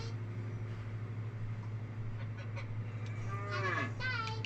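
A cow lets out a drawn-out moo near the end, over a steady low hum and background noise, in a medieval video game.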